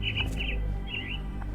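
Several bright mynah bird chirps from a video game repeat in short bursts over a steady low hum, close by and fairly loud, the birds caged in an asylum setting.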